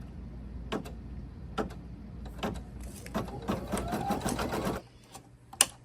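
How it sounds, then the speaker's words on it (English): An embroidery sewing machine runs an applique position stitch, ticking and whirring in a rhythmic, quickening patter at close range before stopping abruptly, leaving a faint hum and a single sharp click. "it's time for the applique position stitch"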